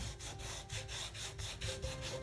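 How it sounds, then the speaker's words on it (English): A small sander lightly smooths a painted wooden sign, giving a close, steady rhythmic scratching with regular pulses about four times a second, heard alone. "I love this little sander"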